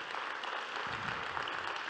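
Audience applause for President Macky Sall at the closing of a conference, a steady, dense wash of clapping held at an even level throughout.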